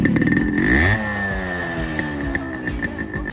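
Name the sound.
Yamaha RX 100 motorcycle engine revving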